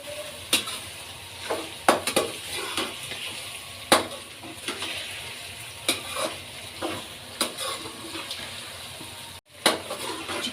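Chicken fries in a pan for a bitter gourd curry, a continuous close sizzle broken by repeated sharp scrapes and clacks of stirring.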